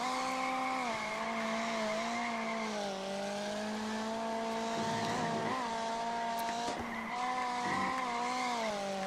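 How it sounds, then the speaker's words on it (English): Tyres squeal hard and continuously in the iRacing sim game at Magny-Cours, a loud sustained skid whose pitch dips and wavers over the engine drone, with no talk over it. "Maybe the increase in tyre spinning is because I just obliterated the tyres"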